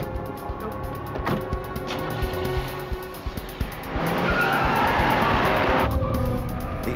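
A car pulls out quickly during an FBI arrest operation, engine revving with tires squealing and skidding, the screech swelling loud toward the end with no voices.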